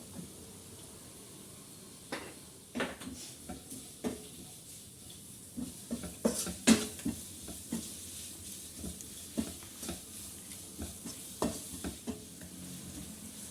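Onions sizzle and fry in a pan with salt for a crab masala, a steady frying hiss broken by frequent scraping stirs that grow louder and more clustered partway through, with no talking.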